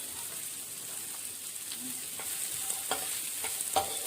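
Carrots, peas and capsicum sizzle and fry steadily in a pan for a semolina breakfast dish, with a few sharp stirring clicks of a utensil toward the end, close and moderately quiet.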